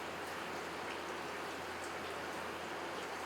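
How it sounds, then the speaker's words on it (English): Water droplets splashing and trickling inside the tank of an Orient Snowbreeze Pro 105L evaporative air cooler, a faint, steady, rain-like patter and flow with no voices. "You hear droplets falling back into the tank, water flowing across the pads."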